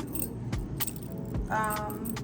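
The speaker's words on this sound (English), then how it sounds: "I had these keychains already because I bought a whole case from Amazon" A bunch of keys on a keychain jangles in short metallic bursts close by, over a steady low rumble like a car interior.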